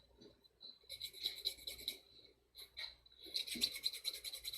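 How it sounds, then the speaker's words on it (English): Sandpaper rasps against a small plastic model kit part in quick, scratchy strokes, coming in two close bursts separated by a brief pause, with no talking. "a little bit of sanding on that, and we're ready for that piece"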